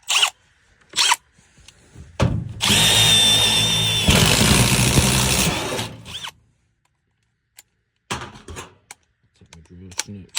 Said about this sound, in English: Then I usually take a step bit, get me pre-starting the hole.